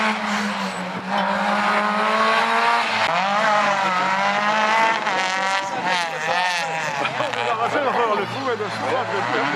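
Race car engine revving and shifting as it passes the final chicane at a slalom event in Agon-Coutainville, with tires squealing, loud and close over steady crowd noise and an announcer talking throughout.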